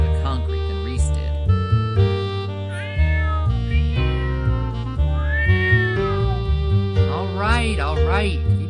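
Cat in a video game meowing repeatedly, long drawn-out harmonic meows and caterwauls at close range, several in succession, with rising and falling pitch and no other sounds between them.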